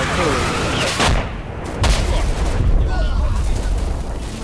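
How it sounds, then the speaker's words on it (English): Machine gun bursts and artillery blasts fire in the video game Combat Mission: Red Thunder at an 85mm anti-aircraft gun position, a dense, loud barrage with a few sharp booms standing out. "our 85mm anti-aircraft gun come under fire from enemy machine guns as well as enemy artillery"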